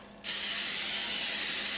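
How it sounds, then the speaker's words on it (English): Butter-flavored cooking spray hisses from an aerosol can onto a baking pan for sourdough bread, a sudden steady spray that starts after a short pause and runs on loudly and close without a break. "what we want to do for the sourdough bread is simply spray"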